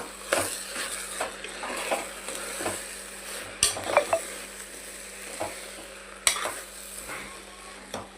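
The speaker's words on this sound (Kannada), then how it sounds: "ಬಿಸಿನೀರು ಹಾಕ್ತೀನಿ ನೋಡ್ರಿ" Vegetable pulao frying in a pot as hot water is poured in, a constant hiss and sizzle broken by clinks of a ladle or spoon against the pot.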